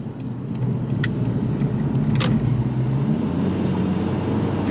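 A 2022 Honda Civic 2.0L with a Ktuner tune accelerates on a highway in normal mode, giving a steady, moderate engine and road roar. Brief clicks and rattles sound inside the cabin.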